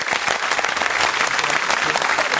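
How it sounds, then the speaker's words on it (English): Studio audience on a 2007 television quiz show breaks into loud, sustained applause, a dense steady wash of clapping close by with no pauses. "Let's give Andrew another round of applause."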